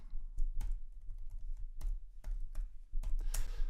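A username and password are typed at a nearby computer keyboard as a quick, irregular run of soft key clicks, quiet and with no talking.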